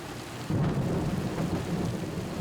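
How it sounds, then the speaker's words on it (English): Thunder rumbles as a storm approaches a construction site with a crane, a sudden deep roll starting after a brief lull and continuing low and heavy with rain-like hiss. "Lightning has touched down within miles of the site."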